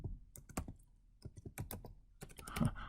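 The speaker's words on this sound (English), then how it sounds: "I'm typing it out so you can see" Computer keyboard keys clacking in irregular bursts while someone types words into a Jupyter notebook, close and fairly quiet, with no talking.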